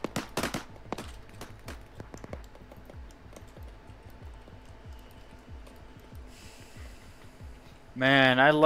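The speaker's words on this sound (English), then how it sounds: "I love just shooting people who can't shoot back" Rapid bursts of gunfire from the Arma 3 video game in a modded military operation, with a dense cluster of sharp shots at the start, then sparser shots and a loud louder passage near the end.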